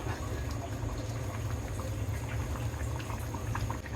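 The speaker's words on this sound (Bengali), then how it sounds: "কি সুন্দর টকবগে বলক উঠে গিয়েছে" Moong dal cooked with rohu fish head bubbles at a rolling boil in a pot, a close, steady low bubbling and gurgling that continues evenly without pause.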